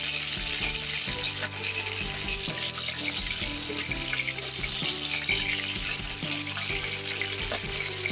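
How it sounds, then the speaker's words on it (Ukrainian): Chicken sizzles steadily in a hot pan, a constant crackling hiss with occasional stirring scrapes, close and moderately loud. "наша курка смажиться"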